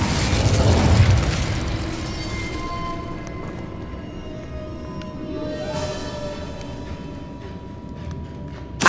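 A fiery burst from an Incendio spell in Hogwarts Legacy, a loud whooshing boom up front that decays into a lingering rumble and tonal magical ring.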